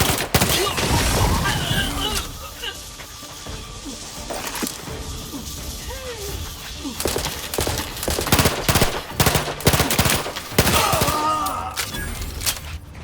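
Rapid gunfire in The Outer Worlds 2 rattles in dense automatic bursts, easing briefly mid-scene before erupting again in loud, close volleys.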